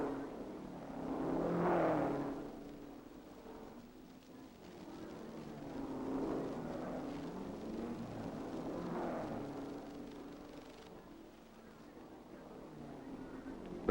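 Ferrari 250 GT Tour de France racing cars roaring along a 1961 European Grand Prix road course, engines swelling and fading as several cars pass in turn, muffled and distant on an old recording.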